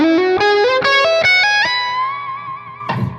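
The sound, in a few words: layered electric guitar lick with distortion effect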